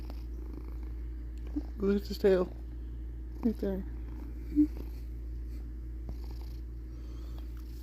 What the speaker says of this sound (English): Purr, purr, purr.